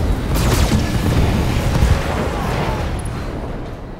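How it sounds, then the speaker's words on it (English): Mechs unleashing an alpha strike of weapons fire in Battletech, a loud burst of overlapping booms and blasts that rolls into a fading rumble, close up. "Targeting for an alpha strike."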